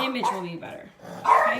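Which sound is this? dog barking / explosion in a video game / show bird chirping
dog barking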